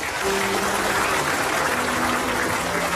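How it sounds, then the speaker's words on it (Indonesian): Dense studio audience applause on an Indonesian television talk show, a steady wash of clapping that fills the whole short stretch at moderate loudness. "Boleh tepuk tangan."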